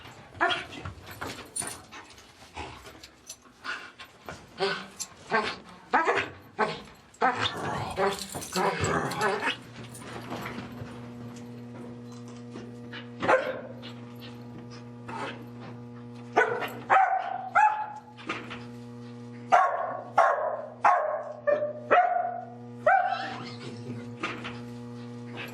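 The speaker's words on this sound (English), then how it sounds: "she stays with the subject and barks lots of barks" Ginny, a search dog, barks repeatedly at a found subject, with loud close barks in rapid bursts, some yips and whimpers, and a person talking intermittently between them.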